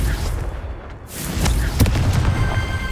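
A booming blast from the Confringo fire spell in the Hogwarts Legacy video game, a deep rumbling explosion that swells after a brief lull and lingers loud with a low roar.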